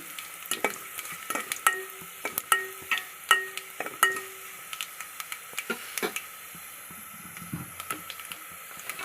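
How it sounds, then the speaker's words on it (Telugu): Dried red chilies and curry leaves crackle and sizzle in hot tempering oil for a Telugu mango dal, with sharp repeated pops and spoon clicks against the pan over a steady fizz, no talking. "ఇలా చివరిగా ఎండుమిరపకాయలు, కరివేపాకు వేసేయాలండి"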